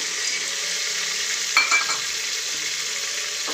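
Masala rice with handfuls of roasted peanuts and boiled peas frying in a pan, a steady hissing sizzle with a brief scrape or two of stirring midway, no voices.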